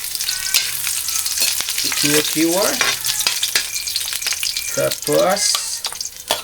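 Ginger being stirred in a hot pan by a riverside outdoor cook, with a loud crackling sizzle and repeated scraping strokes of a spoon, and a brief spoken word partway through.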